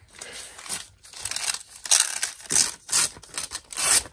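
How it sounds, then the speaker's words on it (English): Tissue paper from Hobby Lobby being handled close by, giving bursts of crisp crinkling and rustling in uneven clumps, with short pauses between them. "This is some tissue paper from Hobby Lobby."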